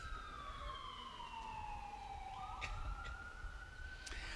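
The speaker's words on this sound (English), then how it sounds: "Let's let the ambulance go by." An ambulance siren wails and sweeps downward as the vehicle passes, steady and fairly loud over outdoor street noise at a farmers market, with a brief sharper tone near the end.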